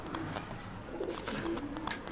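Soft pigeon cooing in low murmuring bursts, with scattered faint chirps and background rustle, moderately close, no talking.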